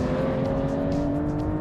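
An Aston Martin V12 Vantage S engine holds a steady, rich drone at high revs. The sound is sustained and fairly close, with no voices over it.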